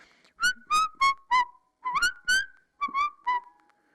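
Melancholy sing-song whistle of a bird-like character in a fantasy audiobook, a series of clear pitched whistled notes in short rising and falling phrases, close and isolated; probably a human voice whistling to imitate the bird.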